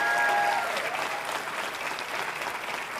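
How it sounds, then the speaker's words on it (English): A pageant audience at a teen beauty competition finals applauds in a broad, continuous wash of clapping that stays full and even for the whole stretch. "let's give it another big round of applause"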